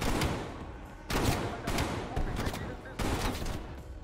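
Shotgun fire in Call of Duty: Black Ops, four loud, close blasts spaced about a second apart. Each starts with a sharp crack and fades into a rough, noisy tail over the battle ambience.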